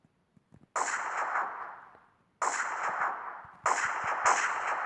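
Loud gunshots from a guns mod in Minecraft PE ring out in three separate single blasts, each with a long, sharp decaying tail, spaced a second or more apart, with faint clicks before the first.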